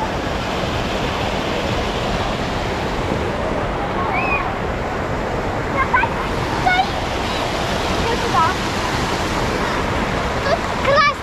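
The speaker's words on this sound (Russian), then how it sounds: "Водопад." A waterfall at a seaside spot in Odesa gives a steady, loud wash of rushing water that runs through the whole clip, with faint voices and a few birdlike chirps over it.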